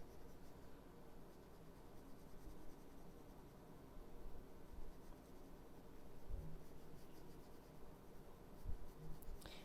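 Soft colored pencils scratch and rub across textured watercolor paper in a close, quiet drawing session, giving a faint continuous scraping with small uneven strokes and occasional light taps.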